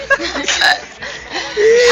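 A person has hiccups after drinking ice-cold water, with a few short, abrupt throaty hiccup sounds close by, mixed in with voices talking.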